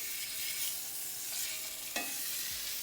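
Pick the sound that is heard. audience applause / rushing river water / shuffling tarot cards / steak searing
steak searing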